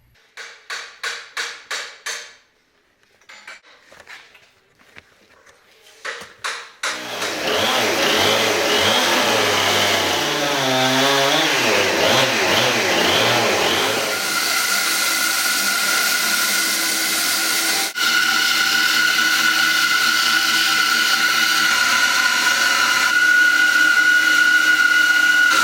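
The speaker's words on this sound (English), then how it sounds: "This whole process involves cutting out 136 felly sections for these 2 wagons." Red oak felly sections for wagon wheels are cut: a few sharp knocks and taps, then a power saw spins up loud and close, biting through the wood in long sustained runs.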